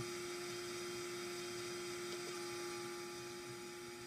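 A model airplane's electric motor runs at half throttle, a steady faint high whine holding one pitch throughout with no talk over it.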